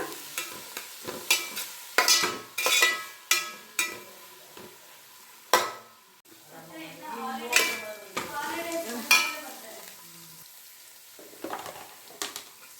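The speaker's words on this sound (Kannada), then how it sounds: "ಈರುಳ್ಳಿ ಬಣ್ಣ ಚೇಂಜ್ ಆಗೋ ತನಕ ಚೆನ್ನಾಗಿ ಫ್ರೈ ಮಾಡೋಣ" Onions fry in oil for vermicelli pulao, a close, busy run of metal spoon scrapes and pan clatter over a soft sizzle, stirring in quick bursts with a short pause midway and no talking.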